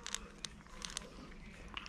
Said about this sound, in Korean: 이리 잘 먹네.